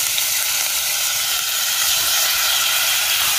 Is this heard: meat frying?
yes